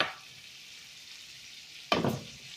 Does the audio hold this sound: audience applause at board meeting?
no